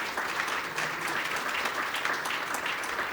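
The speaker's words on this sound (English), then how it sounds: "give a massive round of applause to my wonderful panelists today" A conference audience gives a sustained round of applause for panelists, dense clapping of many hands, steady and fairly distant, with no talk over it.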